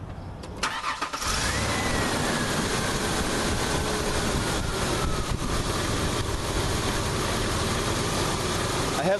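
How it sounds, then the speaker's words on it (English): A car engine cranks and catches about a second in, then settles into a steady, continuous idle during an A/C connector gasket repair, close and fairly loud with no talking. "Let me turn my engine back on here."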